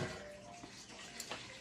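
Whole milk being poured into a pot for making mozzarella, a steady close splashing, gurgling pour that runs continuously through the short moment without talk.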